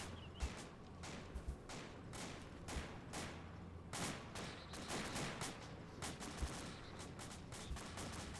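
Repeated gunfire bursts and single shots from an Arma 2 battle, some close and sharp, others more distant, coming in irregular volleys throughout with no talking.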